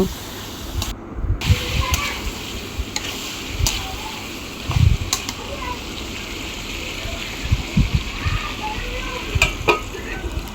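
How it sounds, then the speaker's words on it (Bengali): Cut cucumber frying in oily spice paste for a hilsa fish curry, a low steady sizzle with intermittent stirring scrapes and clinks in the pan. "এখন আমি দিয়ে দেবো কেটে ধুয়ে রাখা শশা শশাটা আমি এখন খুব সুন্দর করে কষিয়ে নেব"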